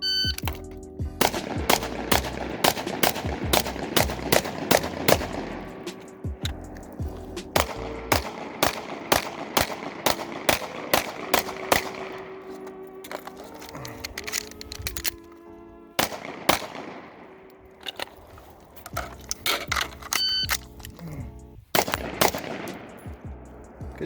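Rapid bursts of gunfire from a Brownells BRN 180 AR-15 rifle with a 16-inch upper, loud and close, fired in quick strings of shots with short pauses between volleys.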